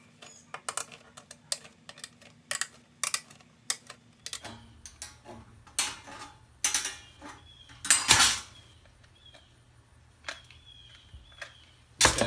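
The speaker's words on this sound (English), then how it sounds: "I'm going to take my snips and cut that circle out to the most accurate circle I can." Tin snips cut a circle out of sheet metal for an industrial-style ceiling medallion, a series of close, sharp metallic clicks and crunches in an irregular rhythm, some louder than others, with no talk.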